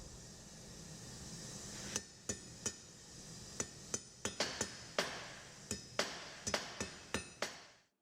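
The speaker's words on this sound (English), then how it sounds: "Give it a few more little light taps to tidy up the taper." A blacksmith's hammer lands light, ringing taps on a steel taper over an anvil, about a dozen sharp metallic strikes in uneven succession, close and clear over quiet hiss.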